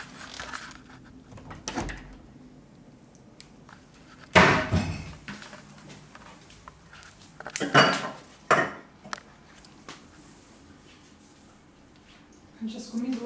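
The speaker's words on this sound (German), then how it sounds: "Katie kocht gerade Essen und die filmt das für ihren Food-Vlog" Pots, pans and cutlery clatter in a home kitchen while food is cooked, with a few sharp loud clanks and scrapes standing out among quieter handling and people talking nearby.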